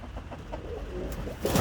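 Street-caught pigeons in a crowded, poorly kept pigeon coop in Kappelle give soft, low cooing, faint and brief, with a slightly louder burst at the end.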